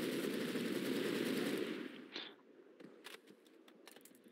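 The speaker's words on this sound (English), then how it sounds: "Ooh, and the Browning actually has sound." Browning machine gun firing in a World at War custom zombies game, a dense sustained burst of rapid shots for about two seconds, then scattered single cracks fading into quiet.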